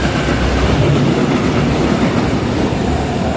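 A train pulling into a station in Saarbrücken, with loud steady rumbling of wheels and carriages close by and faint rhythmic clatter throughout.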